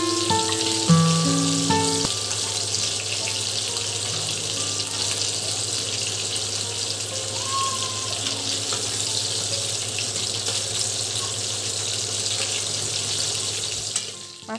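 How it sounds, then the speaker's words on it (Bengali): Fish frying in hot oil, with oil spooned over the top, gives a steady loud sizzle throughout, broken by a few scraping and tapping sounds near the start. "আমি একটা চামচ দিয়ে মাছের উপরে তেলগুলো দিয়ে দিচ্ছি যাতে ওপরটাও ভালো মতো কুক হতে পারে।"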